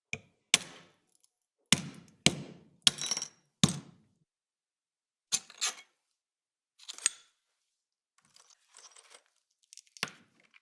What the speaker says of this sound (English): I then got out my hammer, and I carefully smashed it to pieces.